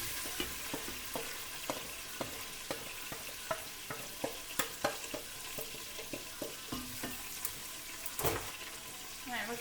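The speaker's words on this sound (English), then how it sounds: "You can just dump the plate of onions and garlic directly into the pan." Chopped onions and garlic sizzle in hot fat in a pan after being tipped in, with steady frying crackle and a series of sharp utensil scrapes and knocks against the pan throughout.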